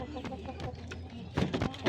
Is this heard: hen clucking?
yes